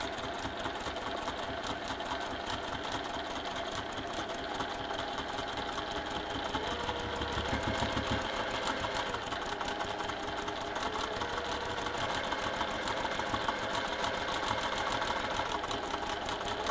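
A sewing machine stitches sparkle blender fabric in a fast, even, buzzing whir that runs continuously, close and moderately loud, with a low motor hum beneath and no speech.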